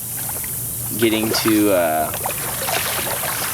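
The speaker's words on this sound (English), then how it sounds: "the waves as you can hear right now," Waves lapping up onto a shoreline outdoors make a steady, soft wash throughout, with someone speaking briefly in the middle.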